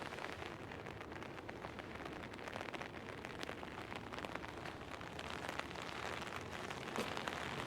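Steady rain dripping and pattering through ice-coated trees during an ice storm, a dense continuous patter of drops with scattered sharper ticks, fairly close and even in level throughout, with no voices.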